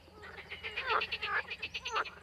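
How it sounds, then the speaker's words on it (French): Male green frogs and tree frogs call in a chorus, loud pulsed croaks repeating rapidly and overlapping, with several higher trilling calls rising above the rhythm. "Les mâles, grenouilles vertes et rainettes, ont un chant particulièrement puissant."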